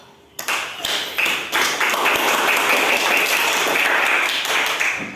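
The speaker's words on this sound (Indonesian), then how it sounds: "kita berikan aplaus kepada kelompok 3" Classroom applause for a student group, a dense run of hand clapping that starts abruptly and holds steady at fairly close range, with a few sharp taps and thumps mixed in.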